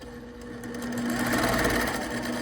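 A Brother PQ sewing machine stitches quilt fabric, its close, continuous whirring run gradually speeding up and growing louder, with no voices.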